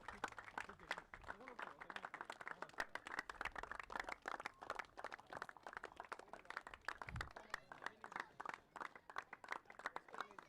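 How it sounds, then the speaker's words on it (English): An audience at a Six Premier League cricket final claps for the sponsors, a thin, uneven patter of hands from a modest crowd, with an announcer's amplified voice speaking over it. "Let's keep clapping, guys."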